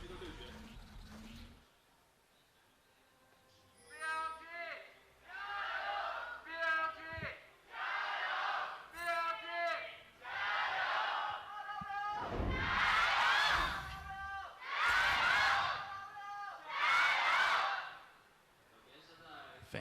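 Esports arena fans at an LPL playoff match in Hangzhou chanting and roaring in rhythmic bursts, loud swelling waves of crowd voices rising and falling, with some thumping underneath.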